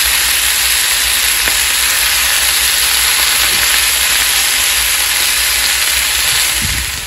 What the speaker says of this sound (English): as the butter stops sizzling